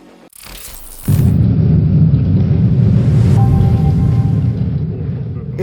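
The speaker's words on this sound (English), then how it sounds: "The crackling sound and dazzling display of lightning bolts across the night sky never fail to leave me in awe." Thunder during a storm breaks with a sudden loud crack and rolls into a long, deep, close rumble that slowly fades.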